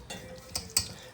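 Thick crumb cake batter, flour mixture folded into beaten eggs, is stirred in a bowl: a short, quiet scraping with two sharp utensil clicks against the side.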